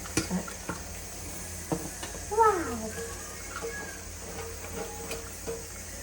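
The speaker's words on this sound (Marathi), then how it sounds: "सो आता आपण भात टाकूया" Cooked rice tipped into a sizzling pan and stirred, giving a low steady frying hiss with scattered scrapes and clinks of the spoon, moderately close, while a voice talks intermittently.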